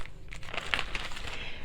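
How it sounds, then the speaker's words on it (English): A plastic bag being crumpled by hand, a short burst of close crinkling and crackling that lasts under two seconds, with no voices. "And then I just take a plastic bag."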